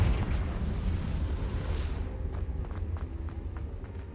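A Confringo explosive spell fires in the Hogwarts Legacy video game, a muffled rumbling blast that dies down into a few small crackling pops, moderately loud with no talk.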